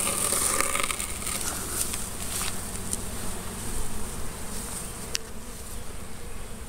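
Honey bee swarm released from a hive box after a day and a half locked in, a dense steady buzzing of many bees close by and alone, with a few sharper passes as individual bees fly near.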